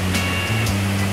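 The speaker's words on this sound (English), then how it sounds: "We have arrived down at Whychus Creek, and Chush Falls right there, it's beautiful." Chush Falls on Whychus Creek pours as a dense, steady roar of rushing water that fills the whole scene, close and loud, with a low constant hum underneath.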